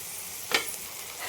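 Peas, potato and tomato sautéing in a pan for bishibele bhat, a continuous sizzle with one quick stirring scrape near the middle.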